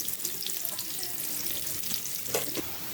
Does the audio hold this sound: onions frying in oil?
yes